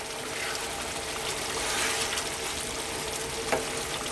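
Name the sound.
frozen peas added to a pan of potato curry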